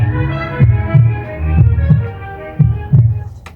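Heartbeat sound effect in a 100.4 FM radio station jingle from Harare, with paired low thumps repeating in a steady lub-dub rhythm over a humming musical bed, loud and close.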